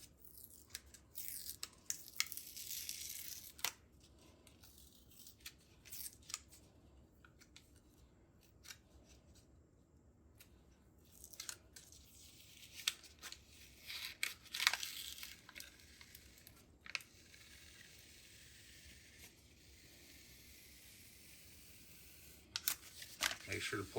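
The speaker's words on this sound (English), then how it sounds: "We're going to remove the plastic or the film from the plexiglass very carefully." Protective plastic film peeling off a sheet of plexiglass in bursts of crackly, crinkling rips, close and quiet, with pauses between pulls and some soft handling noise.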